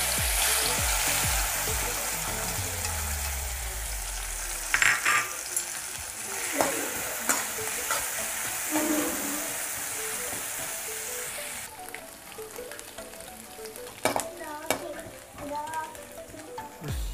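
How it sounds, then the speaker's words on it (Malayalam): Coconut pieces fry in a pan for a payasam, a continuous close sizzle with scattered stirring scrapes and clinks, loud at first and easing slightly later on. "അത് അവസാനമായിട്ട് നമുക്ക് തേങ്ങാക്കൊത്ത് വറുത്തെടുക്കാം."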